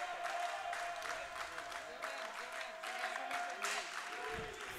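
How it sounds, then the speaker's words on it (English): A Greenhouse crowd cheers and applauds at a sports game with face-offs, a dense, steady roar filling the whole stretch with faint voices blended in. "This Greenhouse crowd, they came out to cheer tonight."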